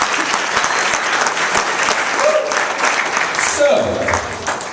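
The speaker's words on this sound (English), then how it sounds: "Give them another round of applause." Wedding guests applauding steadily for several seconds, a dense close wash of clapping at a reception during a best man speech, with a voice faintly heard near the end.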